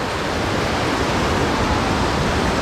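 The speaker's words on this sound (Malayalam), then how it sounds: "താഴത്ത് വെള്ളം ഒഴുകുന്ന ഒരു പവർ കണ്ടോ" A powerful waterfall, Kacharam Waterfalls in Kanthalloor, roars nearby, dense and unbroken rushing water filling the whole moment.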